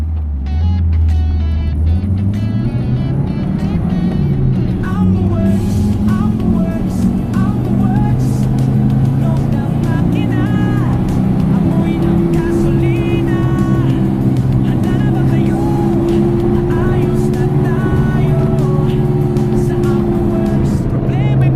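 A carbureted Mitsubishi Lancer on a test drive roars loudly and continuously up close, its engine pitch climbing and settling as it accelerates and shifts.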